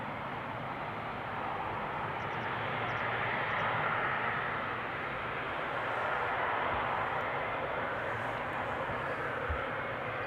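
An Emirates SkyCargo Boeing 777 freighter takes off at Amsterdam Schiphol, its engines a broad, steady roar heard from a distance that swells slightly and holds for the whole stretch, with no talk.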